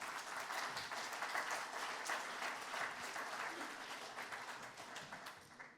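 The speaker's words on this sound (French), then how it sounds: "Merci de les applaudir." An audience at a rail-sector round-table event applauds the panel guests, a dense, steady wash of many hands clapping that holds for several seconds before tapering off at the end.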